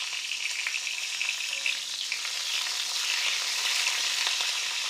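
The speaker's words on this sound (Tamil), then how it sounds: "வணக்கி எடுத்த அதே எண்ணெயில் இந்த 3 தக்காளியும் போட்டுருவோம்." Three whole tomatoes fry in hot oil for tomato chutney, giving a steady, crackling sizzle with small pops throughout and no talking.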